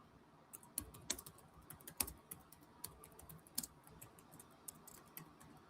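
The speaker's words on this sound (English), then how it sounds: "I'm just typing something to one of my friends" Computer keyboard typing in a quiet room, irregular soft key clicks in quick bursts with brief pauses, fairly close and alone without talk.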